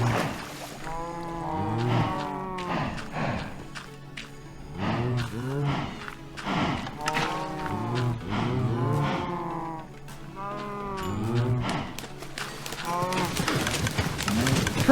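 A Minecraft cow moos again and again in a steady, repeating series of close, clear calls, with bits of talk mixed in.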